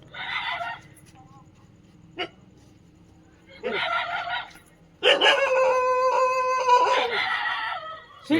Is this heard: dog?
yes